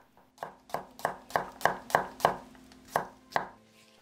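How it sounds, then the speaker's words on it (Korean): A knife slices four whole garlic cloves with roughly ten steady, close chopping knocks at an even rhythm, each thud short and firm before stopping. "통마늘 4개도 슬라이스"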